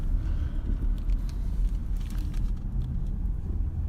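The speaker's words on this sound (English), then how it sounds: "Sorry, I'm driving and cutting people off." Inside a moving car on the road, a steady low rumble of engine and tyres fills the cabin, with faint rattles and ticks over the drone and no voices.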